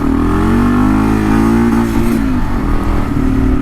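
Engine of a 2022 third-generation Kawasaki KLR 650 motorcycle revving hard during a wheelie attempt on pavement, a loud, close, sustained drone with pitch wavering and dipping slightly toward the end, no talking.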